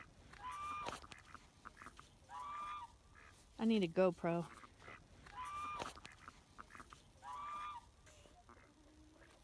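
Geese honk in short repeated bursts, close and clear, with a louder cluster of calls in the middle and a person briefly speaking.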